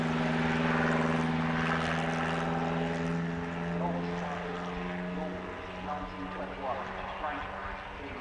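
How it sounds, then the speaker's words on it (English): A vintage 3-litre Bentley racing car rumbles past on the Silverstone circuit during a handicap race, its engine droning loud and steady before easing away, with a commentator speaking over it throughout. "it's number 7, Vivian Bush, in the 3-litre Bentley."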